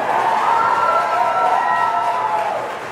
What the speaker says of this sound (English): some major cheering going on here as every stage of this test unfolds